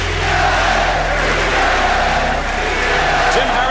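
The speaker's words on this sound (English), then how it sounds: "From the Boston crowd comes a ceaseless pounding chant." A Boston basketball crowd roars in a dense, continuous wall of sound, a steady pounding chant filling the arena without a break.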